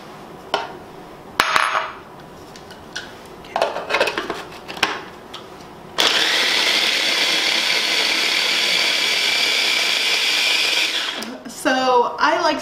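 An electric chopper whirs steadily for several seconds, chopping half of a large onion and peppers very fine for black-eyed pea fritters, with brief clatter and handling noises before and after the run.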